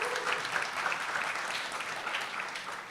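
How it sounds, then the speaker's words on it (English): Steady round of applause from a ceremony audience at a community board swearing-in in Brooklyn, even and sustained throughout without talk. "yes, please do give him a round of applause."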